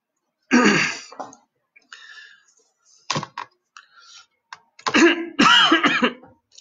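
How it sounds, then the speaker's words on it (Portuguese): A person clears their throat and coughs several times in short bursts, close and fairly loud, with brief pauses between. "Começar a tossir bem na hora, no horário certo."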